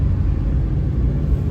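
Interior rumble of a car driving, heard from inside the vehicle during Holi festivities: a steady, loud, low-pitched road and engine drone with no voices.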